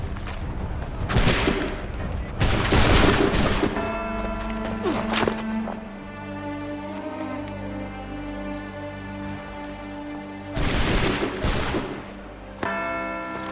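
A volley of gunfire from a line of soldiers in Assassin's Creed III: two loud crackling bursts of many overlapping shots, separated by ringing, bell-like tonal music.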